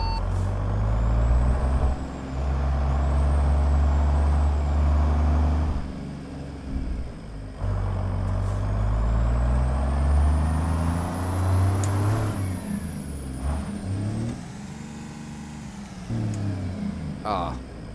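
A Mack walking-floor truck in American Truck Simulator rumbles with a steady low engine drone as it pulls out, with air-brake hisses and tonal whines layered over it and a person talking over the top.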